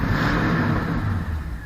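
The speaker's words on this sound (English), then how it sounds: "As I start this thing up, I'm holding the tunnel ram rat rod in my hand." An XK tunnel ram 250 rat rod RC car, running on soybean oil and held in hand in a park, starts up into a steady, close engine whir that wavers slightly as it runs.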